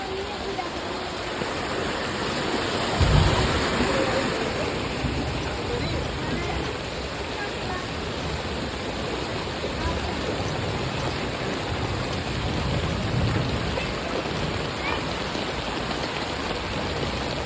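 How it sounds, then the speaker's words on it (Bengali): Heavy monsoon rain pours in a dense, steady hiss throughout, with a brief thump early on and faint voices now and then. "বৃষ্টিটা মানে সেই ঝেপে হয়েছে"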